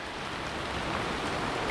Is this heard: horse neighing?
no